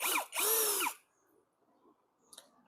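A power tool spins off a nut on a Mitsubishi automatic water pump, two loud close whirring bursts in quick succession, then near quiet with faint clicks and handling.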